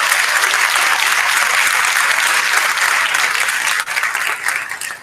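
A school board meeting audience gives loud, dense, sustained applause to a group of top-ranked students, a thick wash of clapping that thins slightly toward the end.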